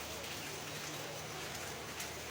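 Steady rain falls during an all-night downpour in Chattogram, making a dense, even hiss that runs unbroken, faint and somewhat distant.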